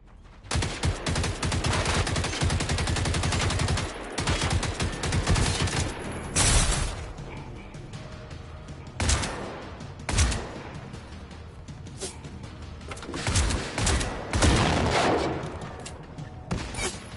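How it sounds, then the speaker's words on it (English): Shotgun blasts in the video game Generation Zero: a dense run of loud gunfire that breaks into separate sharp shots, with a brief voice partway through. "So we should definitely use our shotgun."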